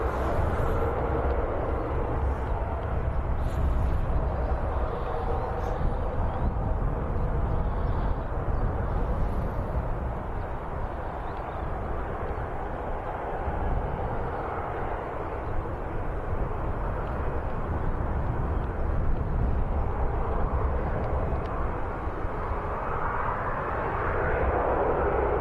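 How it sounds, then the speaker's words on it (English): A KLM airliner departs Birmingham Airport for Amsterdam, its jet engines a steady, loud broadband roar that holds for the whole stretch without letting up. "KLM departing back to Amsterdam."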